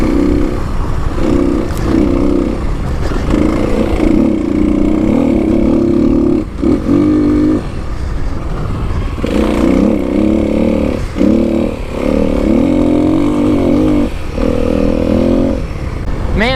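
A Kawasaki KLX300 dirt bike rides across open desert trails, its single-cylinder engine roaring in repeated surges and drops as the throttle opens and closes, loud and close throughout.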